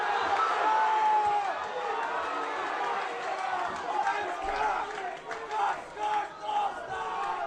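Football crowd at a senior men's Coastal Premier League grand final, Southern United versus Coffs, roaring and jeering in protest at an offside call, a dense sustained wall of voices with shouts swelling near the end.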